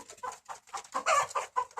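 Several small-breed chickens cluck and murmur in short, overlapping bursts, close by, with no talking, in Riyadh.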